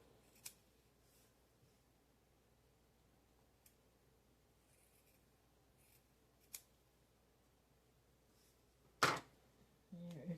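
Quilt fabric is cut by hand in a quiet room for a Halloween-themed quilt: a few faint, sharp snips are spaced apart, then one louder crisp cut comes near the end.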